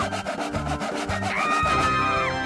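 A saw cuts through a wooden box in rhythmic back-and-forth strokes, loud and close, with a steady scraping rasp that continues for a few seconds.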